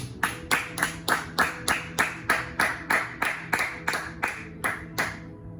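A church congregation claps in unison, a steady, even rhythm of about a dozen sharp, loud claps at a brisk pace, with no talking over it and a clean stop at the end.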